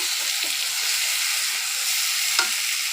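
Fish frying in a pan with spices and freshly added chopped tomato for a fennel-flavoured fish dopiaza, giving a steady close hissing sizzle with a few faint stirring clinks.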